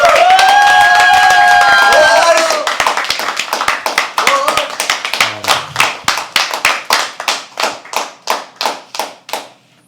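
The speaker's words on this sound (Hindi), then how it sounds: "एक बार जोरदार तालियों से स्वागत कीजिए" Loud applause welcomes a performer at a live poetry open mic, starting as a dense crowd burst with voices and cheers, then thinning into a few scattered, individual hand claps that fade away near the end.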